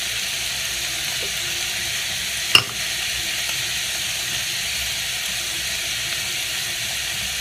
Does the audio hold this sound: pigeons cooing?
no